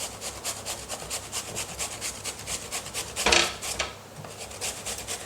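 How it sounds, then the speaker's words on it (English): Courgette rubbed over a fine grater gives a rapid rhythmic rasping, close and steady stroke after stroke, with one brief louder scrape partway through. "we're aiming to get 200 grams of grated courgette"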